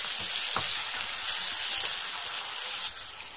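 Soy chaap chunks and masala sizzle steadily in a hot pan, a dense continuous frying hiss with a brief scrape of stirring partway through, close and fairly loud, easing slightly at the end.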